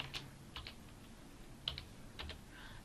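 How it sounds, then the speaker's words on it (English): Short bursts of keystrokes on a computer keyboard, a few quiet, close clicks in small clusters spaced across a quiet room. "we need to type return followed by task"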